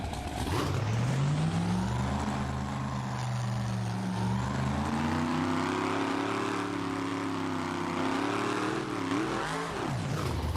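The AMPM Rocket car in the driving game BeamNG revs its engine with a loud, steady drone that climbs and wavers, rising toward the end.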